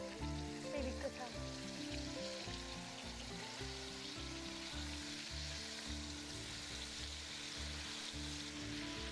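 Food sizzles in hot oil in a TV cooking-show kitchen, a continuous crackling fry with a rhythmic low thumping underneath, steady and moderately quiet throughout.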